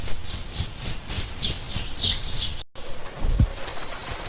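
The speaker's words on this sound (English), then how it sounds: "They are birds." Birds chirping and tweeting in a jungle setting, a steady busy chorus of small calls with a brief break partway through and a low coo-like note near the end, no voices.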